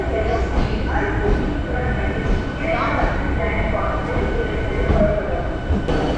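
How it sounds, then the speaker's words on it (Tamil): A suburban train departing Tambaram station toward Egmore rumbles steadily, heard from inside a carriage, with a constant low roar and people talking over it. "இப்போ தாம்பரம் ஸ்டேஷன்லேருந்தோ இந்த ட்ரெயின் ஸ்டார்ட் ஆகிடுச்சிங்க"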